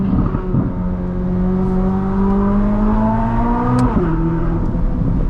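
A 2023 Chevrolet Corvette Z06 engine roars loudly and steadily, its exhaust pitch climbing as it revs, then dropping sharply with a quick, instant gear shift near the end.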